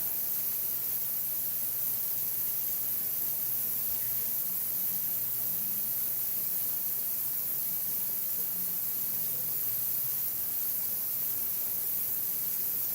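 A Sharpertek medical instrument cleaning system runs its ultrasonic cycle with a steady, broadband hiss and a low hum, unchanging and moderately loud throughout.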